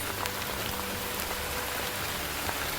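Heavy downpour falls hard on a hiking trail around Piton des Neiges, Réunion, a dense continuous hiss with scattered drops pattering nearby.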